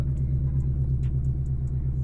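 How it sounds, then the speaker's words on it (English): A 2024 Ford Mustang GT with active exhaust and performance pack idling while warming up: a steady, deep burbling rumble close by, continuous and even with no revving. "So as the car is warming up, we can talk a little bit about it."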